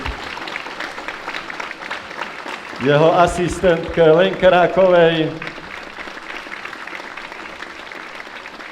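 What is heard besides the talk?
applause for the sound engineer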